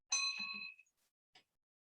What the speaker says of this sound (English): And now we'll do one more official whack of the bell.